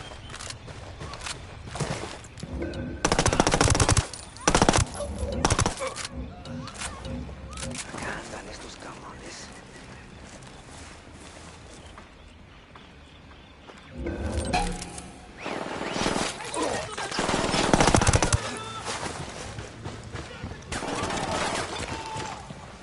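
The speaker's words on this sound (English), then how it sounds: "Opening fire on these fuckers." Gunfire in a video game, Wild Lands, comes as bursts of loud rapid shots and crackling fusillades in two main clusters, with quieter stretches and game ambience between them.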